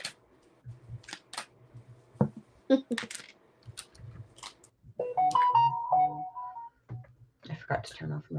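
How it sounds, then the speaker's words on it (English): A mobile phone rings during a live psychic reading, a short tonal melody rising over scattered clicks and handling noises, with a voice talking around it. "I forgot to turn off my phone."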